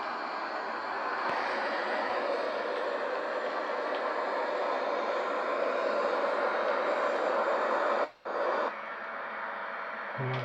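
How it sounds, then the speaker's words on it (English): A Royal Air Force Eurofighter Typhoon jet engine roars steadily in a flight simulator game, a constant dense whoosh that cuts out abruptly near the end before resuming. "Gonna make a few more flight over here with the Royal Air Force Eurofighter."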